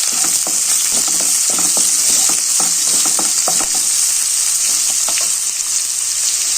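Finely chopped onions sizzle loudly in hot oil in a pan, a constant bright hiss with quick clicking scrapes as a spoon stirs them, close and without talk, while cooking okra rasam.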